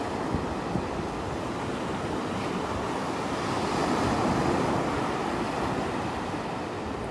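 Ocean waves wash onto a beach on a morning at a sea turtle hatchling release, a broad steady surf roar mixed with wind noise on the microphone that swells slightly midway.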